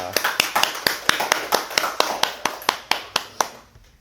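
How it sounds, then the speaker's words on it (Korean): Congregation in a church applauding together, a run of sharp, regular claps at a steady rhythm that thins out and stops near the end. "우리 하나님께 영광의 박수 올려드리겠습니다."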